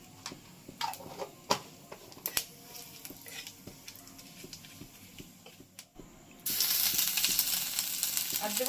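Bay leaf and whole cumin hit hot oil in a pan and burst into a sudden loud, bright sizzle. Before that come several seconds of faint ticks and clinks from the kitchen.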